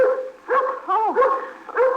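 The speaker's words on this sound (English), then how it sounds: "Ruthie, now you stop your barking" A dog named Ruthie barks several times in quick bursts, close and fairly loud, with short gaps between the barks and no talking.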